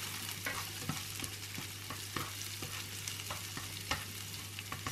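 Onions being stirred as they fry and caramelize in a pan, a steady soft sizzle broken by scraping stir strokes and small clicks, close and fairly quiet with no talk.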